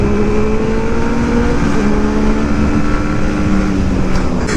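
A Benelli 600i motorcycle fitted with a loud aftermarket exhaust drones continuously with a dense, throaty engine note as it is ridden. The sound is close and loud throughout.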